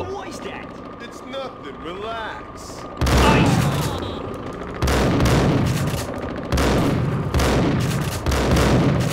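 Gunfire in the shooter Max Payne, heavy bursts of rapid shots and fusillades in three loud stretches after a quieter start, close and intense, with a voice speaking in between.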